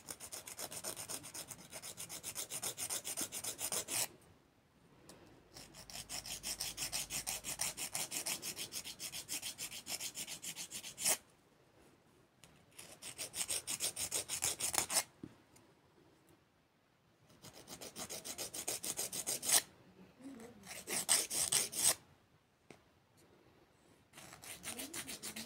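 A coarse-grit nail file rasps across fiber gel nails in repeated close, steady bursts of scratchy strokes, separated by short quiet pauses.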